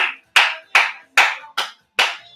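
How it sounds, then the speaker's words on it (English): Hands clap in a slow, evenly spaced rhythm during a dance class, six crisp, close claps separated by brief silences, with no other sound between them. "Okay, you can do clapping."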